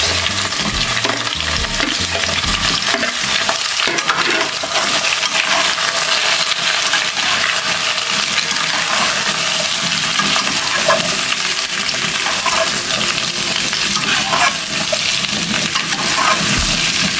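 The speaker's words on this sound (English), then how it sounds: "We're gonna cook this for around 10 minutes until the pumpkin are soft." Pumpkin pieces cooking in a pot, loud dense sizzling and bubbling that holds steady throughout, with stirring scrapes mixed in, close and continuous without talking.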